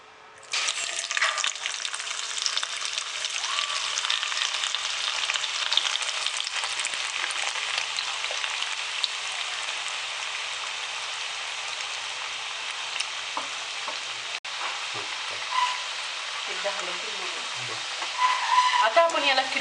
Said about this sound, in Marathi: आता आपण फ्रेंच फ्रायला डीप फ्राय करून घेणार आहोत